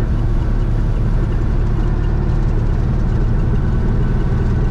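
Steady low rumble of the air-cooled rear engine in a 1970 Volkswagen Karmann Ghia, heard from inside the cabin while driving, constant and fairly loud with road noise blended in.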